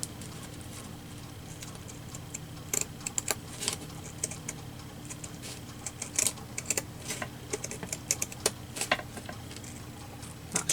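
Scissors cut paper for a junk journal collage, giving scattered sharp snips and clicks in irregular bursts over a steady low room hum. The snips are close and fairly quiet, with no talking.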